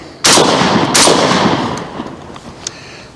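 Two loud shotgun blasts from a 12 gauge VR80 fed by a 20 round drum, close up, the first at once and the second about a second later, each ringing out and fading into outdoor echo.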